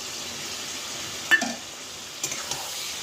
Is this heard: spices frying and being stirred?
yes